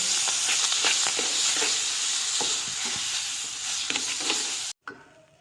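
Raw mango pulp and sugar stirred in a pan on a gas stove, a continuous bright hiss with soft irregular scraping strokes that cuts off abruptly near the end.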